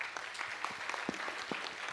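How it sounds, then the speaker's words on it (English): Audience applause fills the room at a steady, moderate level, with dense overlapping claps and a few sharper individual hits standing out. "Everyone is clapping."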